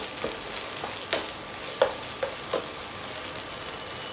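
Corn kernels roast in a hot pan for corn upma, with a soft steady sizzle broken by a few scraping stirs and light ticks, heard up close and without talk.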